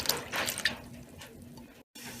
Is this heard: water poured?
yes